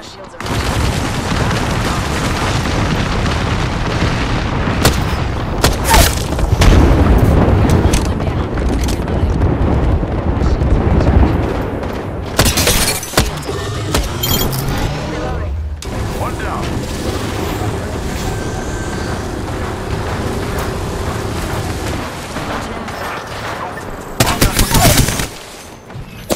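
Heavy gunfire and explosions in a shooter video game: sustained bursts of automatic fire and loud booms throughout, with sharp blasts and players talking over the din.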